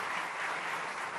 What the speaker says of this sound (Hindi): एक बार जोरदार ताली बॉबी पाजी के लिए हो जाए